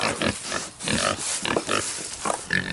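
Pig on a hobby farm, a series of close, loud grunts and snorts in an irregular rhythm with short pauses between them.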